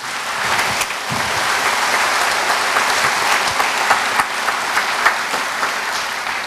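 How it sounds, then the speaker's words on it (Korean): An audience at the 2014 inauguration ceremony of South Chungcheong's governor applauds in a long, even burst of many hands clapping, full and steady from start to finish. "이 국회의원님들께도 여러분들 큰 박수 좀 부탁 올리겠습니다"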